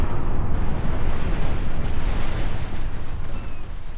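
Ship cannons fire in a naval battle in the strategy game Napoleon Total War, a dense, continuous rumbling barrage of booms and blasts, loud and unbroken throughout.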